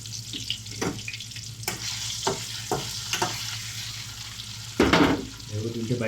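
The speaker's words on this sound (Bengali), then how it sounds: "এখন ডিমগুলা তেলের সাথে ভাজি নেব" Eggs coated in turmeric and chili sizzling in hot oil, a steady close fry punctuated by several sharp scraping strokes of a spatula stirring the pan.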